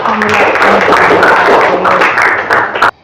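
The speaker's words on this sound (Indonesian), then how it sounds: "Tepuk tangan untuk Mbak Farha." Students applaud for Mbak Farha in a classroom, a short loud burst of close clapping with voices mixed in, cutting off sharply near the end.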